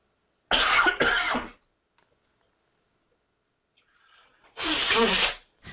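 Two loud, noisy bursts of nose blowing into a tissue, one early and one near the end, separated by near silence.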